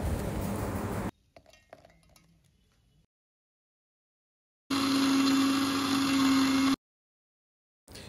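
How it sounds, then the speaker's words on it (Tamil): A loud mixer grinder whirs steadily for about two seconds, grinding biscuits into powder after some faint clinks, then cuts off abruptly. "இதை இப்போ ஒரு மிக்ஸி ஜாரில் ஆட் பண்ணிவிட்டு நல்லா பவுடர் பண்ணி எடுத்துக்கலாம்."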